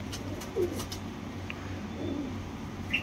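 An imported Teddy pigeon of Oman bloodline gives a few soft, low coos, close by, in a quiet room with faint background noise.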